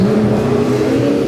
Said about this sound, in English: they want to get that race car in and out of the pits in about 10 seconds